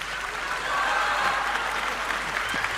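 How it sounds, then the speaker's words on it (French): An audience claps in a dense, even patter throughout a live French television talk show, with no voices standing out. "Permettez que je savoure les 4 personnes qui m'ont applaudi."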